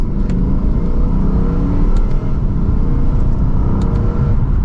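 A Lexus V8 sports coupe in Sport Plus mode pulls hard in second gear, its engine holding a loud, steady, deep roar close to the listener with a rising whir and no voices.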